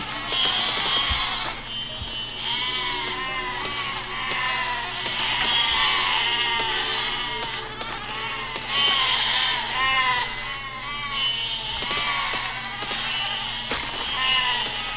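Many sheep bleat in overlapping cries in the Besiege video game, a dense, continuous flock chorus that stays loud throughout with no talk over it.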